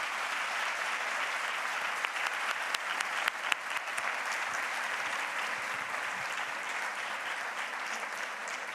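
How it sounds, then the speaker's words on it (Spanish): Sustained applause from a conference audience after a talk on healing architecture, a full, even wall of many hands clapping that holds for several seconds without speech. "vamos a recompensar con un gran aplauso"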